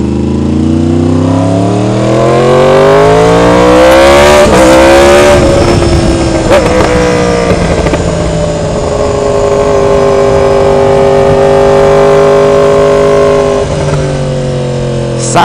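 A Yamaha R1 2016 motorcycle engine revs up loudly and close by, climbing in pitch, then holds a steady roaring idle with slight throttle changes.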